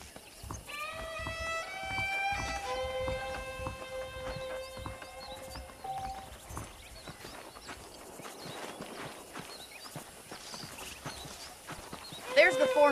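Horse hooves clip-clop at a steady walking rhythm in the Red Dead Redemption video game on PS3, fairly close, mixed with western-style music and ambient game sounds, with a brief louder burst near the end.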